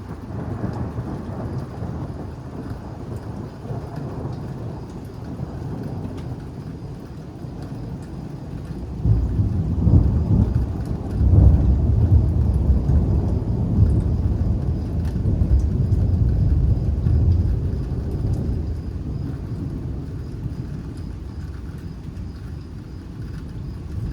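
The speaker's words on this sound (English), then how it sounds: "That has got to be the coolest lightning I've ever seen." Thunder rolls through a windy lightning storm, a deep rumble that swells midway and slowly fades, with rain and wind hissing steadily throughout and no one speaking.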